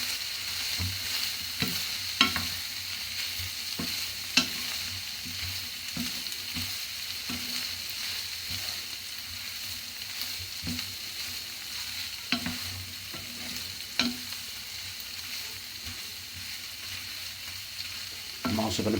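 Corned beef hash frying in a pan, with a constant soft sizzle under repeated spatula stirring and occasional sharper scrapes, close up and alone without speech.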